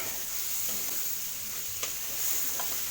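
Chili and tomato stirred with shrimp in a hot frying pan, a steady close sizzle with a few soft scraping stir strokes, no talking.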